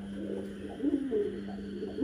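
Pigeons at a busy pigeon market, soft repeated cooing calls rising and falling over a low steady background hum, close and moderately quiet.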